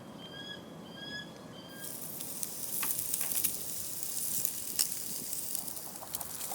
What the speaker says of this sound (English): As the steak cooks, that intramuscular fat begins to melt, basting the meat from the inside.